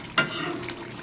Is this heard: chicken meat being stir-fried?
yes